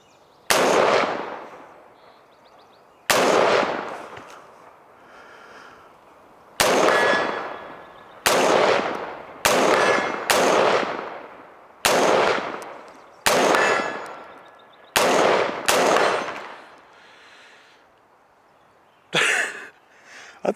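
Rifle shots fired through a Vortex VMX-3T magnifier in a stiff crosswind: about ten sharp, loud reports spaced a second or two apart, each ringing briefly before fading, with no talk.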